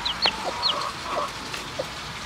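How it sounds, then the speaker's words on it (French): A rooster gives short clucks and chirpy calls in a backyard near a cornfield, several brief sounds scattered over steady outdoor background noise, moderately close. "C'est un coq."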